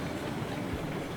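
A big train in Railroads Online rumbling past, a steady low rolling noise with faint rail clatter, brief and even in level.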